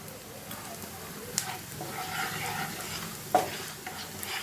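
Turmeric, chilli and coriander powders frying in hot oil for a paneer masala gravy, a steady soft sizzle with a few sharp stirring clicks, close by and moderately quiet.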